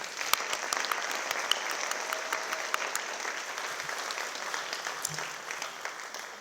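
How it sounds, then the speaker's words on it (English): Warm, steady applause from an audience at the close of a Bharatanatyam arangetram dance debut, many hands clapping evenly across the hall with no voices standing out. "let's join hands to congratulate and applaud Dr. Bindu Shankar and Saesha"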